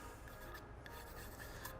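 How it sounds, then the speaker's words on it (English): Sandpaper rubs over a wooden table leg in a quiet rasping scrub, faint and continuous with slight back-and-forth strokes. "when the sandpaper erases all of that, chances are you did a pretty good job of sanding"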